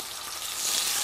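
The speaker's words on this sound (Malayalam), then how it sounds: "അപ്പൊ അതിനകത്തോട്ട് നമ്മൾ എണ്ണ അടിക്കുക, എണ്ണ അടിക്കുക, ഫിഷ് ഇടാം, മീനിട്ട്." A steady, bright sizzle of oil hissing in a pan as karimeen (pearl spot fish) fries in a houseboat kitchen in Kollam, close up and constant, swelling a little louder midway, with no talking.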